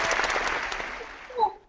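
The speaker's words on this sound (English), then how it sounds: "I think I want the applause track to follow me wherever I go in life." A burst of applause from a small audience at a livestreamed book event with authors, filling the first second and then tapering off, with a few voices rising briefly at the end.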